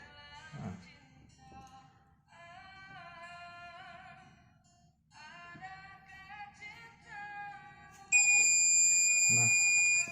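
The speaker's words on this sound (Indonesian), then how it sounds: "adanya smoke detector atau detektor asap dengan gas yang telah ditentukan itu. Apabila gasnya sudah 100 maka dia akan bunyi." A smoke detector with a gas sensor in a home fire-detection microcontroller project beeps in steady, shrill electronic tones that switch into a loud continuous alarm tone, close by, with a brief voice in between.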